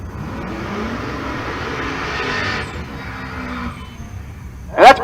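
A rat rod drag race car sits in the left lane at a Pueblo, Colorado drag strip, giving a sustained engine roar at moderate distance that fades slightly before a sharp, louder burst right at the end.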